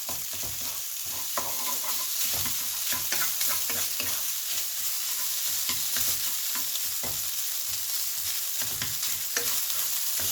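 Japanese-style garlic fried rice with pork sausage stir-fried in a pan, a steady loud sizzle with continuous scraping and tapping of the spatula as clumps of rice are broken up, with no talking.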